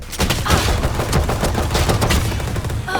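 Rapid, continuous gunfire from a weapon in the Valorant video game, dense overlapping shots with booming low end sustained loudly across the whole stretch, no talking.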